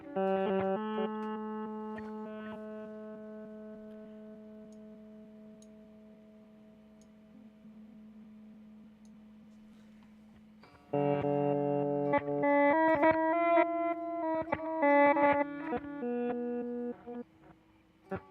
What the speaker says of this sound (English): we are going to want, of course, an analog slap echo